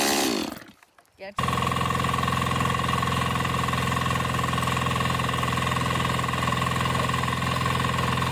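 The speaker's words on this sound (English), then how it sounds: "Introducing the tillage machine, powered by a versatile 6-horsepower diesel engine." A tillage machine powered by a 6-horsepower diesel engine starts up after a brief gap and runs steadily, a loud rattling drone with a constant hum.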